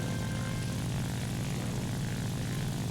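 A La-5 propeller fighter's engine drones at altitude in the War Thunder combat flight game, a loud, steady, unbroken roar with no pauses.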